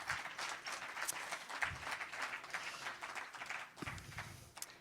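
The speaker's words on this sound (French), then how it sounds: "Donc pour ça, on peut les applaudir bien fort." An audience at a national slam poetry final applauds the jury, faint, steady clapping from a distance lasting several seconds with a few soft thumps underneath.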